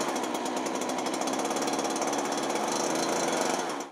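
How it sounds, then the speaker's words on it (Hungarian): A chainsaw cutting through the trunk of a snow-laden pine tree outdoors in winter, a loud, steady, continuous buzzing whine that holds unbroken for several seconds before cutting off. "A láncfűrész könnyedén vágta el a törzset."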